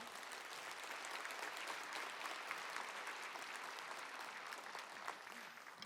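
A church congregation at a new-life festival service applauds to welcome Pastor Kang Eun-do to the pulpit; a dense, steady wash of many hands clapping, sustained evenly throughout.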